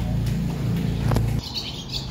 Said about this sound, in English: This bird is complaining